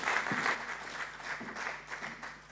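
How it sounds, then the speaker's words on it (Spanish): Applause from a symposium audience on sustainable viticulture for a speaker who has just finished her talk, a steady wash of clapping that slowly thins and fades over a couple of seconds. "Un aplauso para ella."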